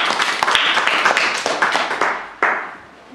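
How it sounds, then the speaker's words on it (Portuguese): A small group in a classroom teaching session claps briskly. The clapping is close and lively, with a sharp final clap before it tapers off toward the end. "Também merece uma salva de palmas."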